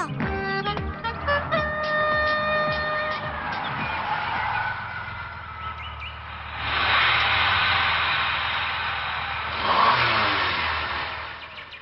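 A car engine that is about to break down revs in rising, straining sweeps, then surges twice more in rough, noisy bursts, with honk-like tones near the start and no voices.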